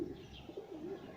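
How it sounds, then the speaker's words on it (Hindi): Pigeons at a village house give low, soft cooing with a steady rolling rhythm amid outdoor background noise, close and moderately quiet, with no talk. "ऐं हिते ही कबूतर ॾिसो"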